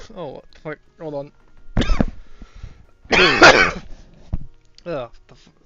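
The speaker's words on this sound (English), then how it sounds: "I just got hit by a fucking weird cough." A man coughs hard several times in sudden, harsh bursts between voiced groans and short exclamations, close to the microphone.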